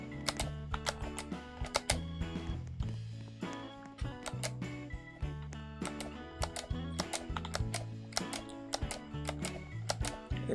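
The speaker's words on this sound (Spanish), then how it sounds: "Lo que más van a escuchar aquí va a ser el teclado." Computer keyboard keys clatter steadily during a Roblox parkour session, quick uneven runs of close, crisp keystrokes with short gaps, continuing for the whole stretch.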